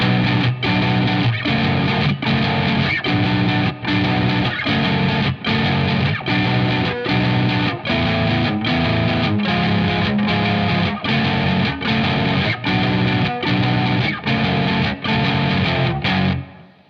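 Heavily distorted electric guitar chords strummed in a steady, driving rhythm, loud and dense throughout, with no voices.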